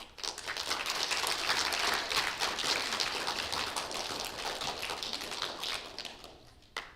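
Steady audience applause at a school spelling bee follows a correctly spelled word, dense clapping from many hands that holds loud for several seconds, then thins out and stops with one last clap.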